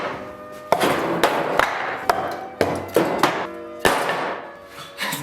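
Wood is struck hard again and again, giving sharp, loud knocking impacts at an irregular pace, roughly a dozen close hits with short ringing decays between them.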